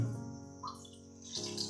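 A cup of water is poured quietly for making ragi flour dough, a short, soft trickle and splash close by.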